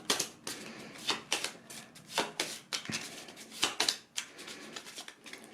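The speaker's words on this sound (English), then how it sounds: "Then the rest of the deck, of course, you shuffle it up." A deck of Summoner Wars cards is shuffled by hand at a tabletop, giving quiet bursts of riffling and flicking that come in irregular clusters, close but faint.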